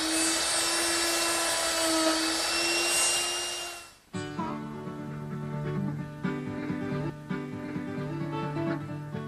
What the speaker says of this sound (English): And I've put it in the router.